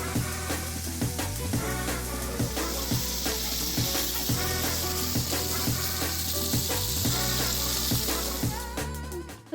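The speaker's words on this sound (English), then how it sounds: "So now we've got a good hard sear on the beef." Beef sears in a hot pan during a cooking session, a steady close sizzle and crackle running throughout with clinks and scrapes of utensils over it.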